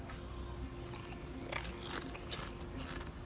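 Someone bites into and chews wasabi-flavored Doritos on a tour of Hawaii's Plantation Village, with a few sharp crunches close to the mic over a low steady background hum.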